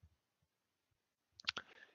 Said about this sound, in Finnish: tuosta sitten klikataan se uusin auki